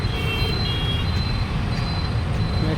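A metro train passes through a Delhi station, giving a continuous, fairly loud rumble with faint high wheel squeals running over it, steady throughout and with no voices.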